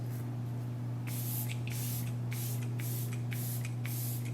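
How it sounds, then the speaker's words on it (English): Glow Recipe Watermelon Mist face spray is pumped in about seven quick hissing bursts, close and fairly faint over a steady electrical hum. "So starting off with the Glow Recipe Watermelon Mist."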